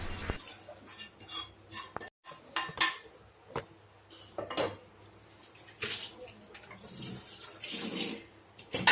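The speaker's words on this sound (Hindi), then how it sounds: "बर्तन अभी हुए हैं तो साथ में मैं धो देती हूँ" Dishes and glass tumblers being washed at a kitchen sink, with running water, clattering pots and clinking cutlery in irregular bursts, close and moderately loud.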